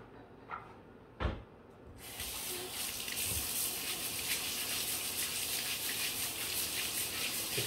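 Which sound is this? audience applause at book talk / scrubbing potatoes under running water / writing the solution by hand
scrubbing potatoes under running water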